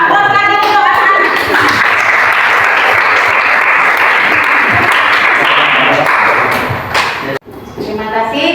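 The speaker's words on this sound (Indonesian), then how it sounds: "Aplaus lagi untuk anak-anak." Sustained applause from the children in a classroom, loud and continuous for about seven seconds before breaking off abruptly, then resuming briefly, with a few voices mixed in.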